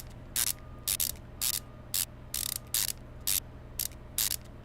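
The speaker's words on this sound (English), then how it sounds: "Wheel back on. 5 bolts or lug nuts." Wheel lug nuts are tightened in Car Mechanic Simulator 2015, a series of short, sharp ratcheting bursts from an impact tool, about a dozen evenly spaced zips over a low steady hum, with no talking.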